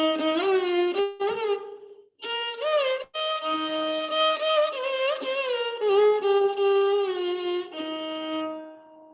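Carnatic raga Shankarabharanam played as a sustained, harmonic-rich melodic line with gliding, oscillating gamaka ornaments between notes, several phrases separated by short breaks, fairly loud and alone.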